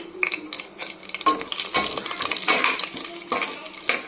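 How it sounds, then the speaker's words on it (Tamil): Cashews, cumin and spices stir-fry in a pan, giving a busy close sizzle with frequent metallic scrapes and clinks of the spoon against the pan. "இப்போ முந்திரியும் போட்டு வதக்கியாச்சு"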